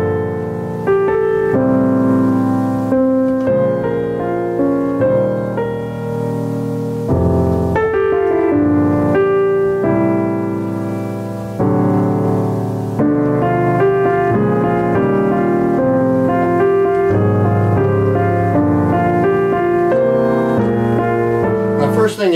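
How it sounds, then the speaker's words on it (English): Solo jazz piano plays a tune in F, with block chords in the left hand under the melody in the right, a rich, low-heavy sound with the harmony bunched in the lower register, steady and close. "I'm just going to be playing block chords in the left hand and melody in the right."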